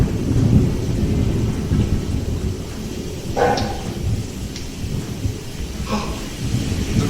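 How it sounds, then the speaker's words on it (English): Thunderstorm with steady rain hissing throughout and low rumbles of thunder rolling underneath, with a couple of brief brighter bursts standing out from the continuous wash of noise. "Oh no, it is now a thunderstorm."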